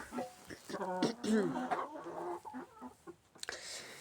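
Backyard chickens, including Red Bro and naked-neck hens, make soft close clucks and murmurs in short bursts while someone talks to them.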